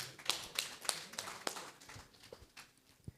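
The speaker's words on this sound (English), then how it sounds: "let's clap for the DG" An audience at a conference on indigenous production and global markets claps for the closing speaker, a short burst of scattered applause that fades within a few seconds.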